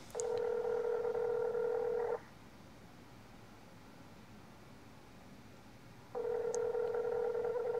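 Telephone ringing heard on a landline in the Heathcote video game, two long steady ring tones separated by a few seconds of quiet hiss.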